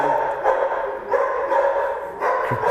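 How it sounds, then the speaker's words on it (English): A dog in a vet's waiting room barks and yips at someone else coming in, several sharp bursts spread across the moment over a murmuring room background. "That's Maddie, the dog from Swindon's Needy Dogs, who's just taking exception to someone else coming into the waiting room."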